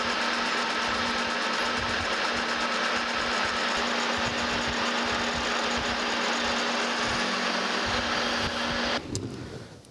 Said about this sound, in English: I'll do another 20 thousandths cut pass here and then clean up with the 10